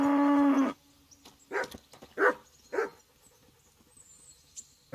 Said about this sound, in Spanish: ¿Hay otro perro por ahí?